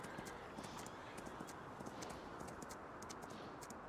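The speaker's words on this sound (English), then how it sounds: "Just riding a horse underwater." Rapid clip-clop of horse hooves while riding underwater in the Farming Simulator 19 video game, a steady, faint galloping rhythm under a continuous wash of noise.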